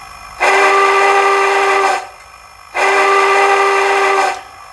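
Two loud, sustained horn blasts from an Athearn Genesis 4-6-6-4 Challenger model steam locomotive sound system, each about one and a half seconds long with a short gap between them, over a low running rumble.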